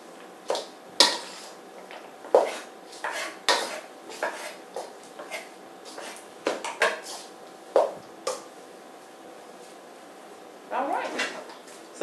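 Ingredients for spaghetti and meatballs mixed in a bowl, with a string of sharp utensil clinks and knocks against the bowl at an uneven pace, close and fairly loud, while people talk between the strikes.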